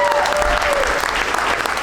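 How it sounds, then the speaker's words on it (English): A comedy roast show audience gives loud, steady applause for the night's performers, dense clapping close and sustained with a brief tonal whistle-like sound early on. "round of applause for everybody you saw tonight"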